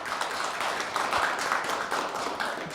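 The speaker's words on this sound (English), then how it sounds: "let's clap" A group applauds together, steady dense clapping filling the room for a few seconds without pause.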